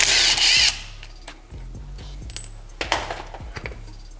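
Brake parts come off a Nissan Pathfinder with a burst of loud power-tool whirring at the start, followed by scattered metallic clinks, ratcheting clicks and small clanks up close.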